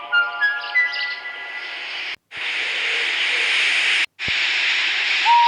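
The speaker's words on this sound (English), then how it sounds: "When Henry had got up steam, he puffed out." A steam locomotive getting up steam, a steady broadband hiss of escaping steam with a few whistle-like tones at first, broken by two brief silences.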